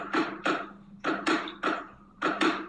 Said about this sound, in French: ce sont des gouttes d'eau qui s'écrasent dans un seau, tombant du plafond